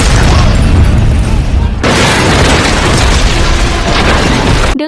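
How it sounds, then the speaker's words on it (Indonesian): Loud booming gunfire blasts out in a film scene, dense bursts of shots running continuously with a brief break partway through, with voices mixed in. "secara tiba-tiba terdengar suara tembakan"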